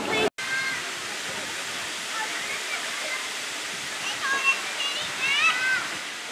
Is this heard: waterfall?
yes